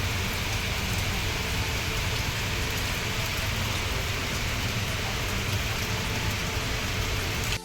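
Heavy rain pours down steadily outdoors, a dense, continuous hiss of drops at even loudness throughout, with no voices.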